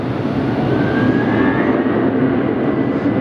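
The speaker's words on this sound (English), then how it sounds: "They're very loud IAE engines, V2500 series." An American Airlines jet with IAE V2500 engines at Phoenix Sky Harbor airport produces a loud, steady broadband roar that holds constant throughout, with no talking.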